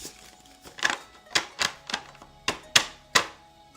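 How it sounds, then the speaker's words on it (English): A deck of tarot cards is shuffled in a series of sharp, quiet riffling snaps, about eight quick bursts spaced irregularly, close to the microphone. "I'm going to shuffle this deck 5 times for new beginnings"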